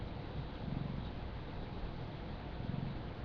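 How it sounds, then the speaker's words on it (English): A cat purrs close to the microphone, a soft low rumble rising and falling in slow, even breaths. "you're purring"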